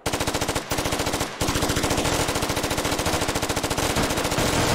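Heavy automatic weapon fire in the video game Squad, loud and close, with rapid steady bursts from more than one gun, broken by two short pauses and continuing to the end.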